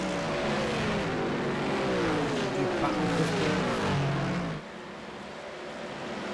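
Mustang race cars in the iRacing sim charging down into the first turn at Watkins Glen, a loud dense pack of engines with pitch sweeps, easing to a quieter hum near the end.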